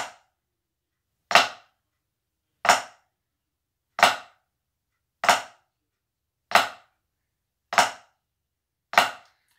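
A flam rudiment played on a drum at 105 bpm, seven crisp, evenly spaced strikes, each a tight double hit, ringing out alone against silence.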